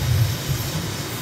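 Aircraft engine at full power during a takeoff roll in a flight simulator game: a continuous low drone with a broad roar, steady and loud, with no voices.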